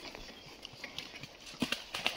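Hooves of a horse trotting during a training session with a new bit, faint and somewhat distant, a quick irregular clip-clop pattern over low background noise.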